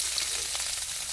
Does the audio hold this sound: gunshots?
no